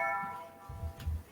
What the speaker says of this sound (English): Sorry. The doorbell.